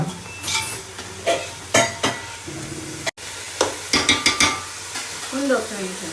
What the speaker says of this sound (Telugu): మా పాప కలుపుతుందండి, ఆనియన్స్ ఫ్రై అవుతున్నాయి